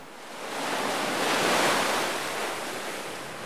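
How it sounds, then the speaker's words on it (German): Rough, stormy sea on the US East Coast surging against a sandbag-barricaded shoreline, a continuous loud wash of crashing surf that swells and recedes, with no voices. "Das Meer ist so bewegt, dass es trotz der Barrikaden Schäden anrichtet."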